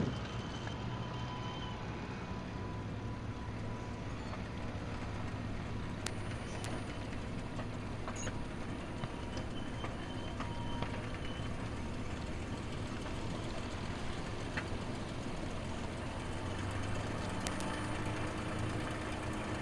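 A P-51 Mustang's piston engine idles while taxiing toward the run-up, a steady low rumble droning on without letup for the whole stretch, with no voices over it.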